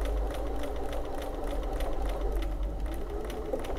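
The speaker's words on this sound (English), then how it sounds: "And now it's going to sew backwards." A sewing machine stitches a buttonhole in reverse on tricky fabric, its motor a steady close whirr with rapid needle pulsing throughout, no voices.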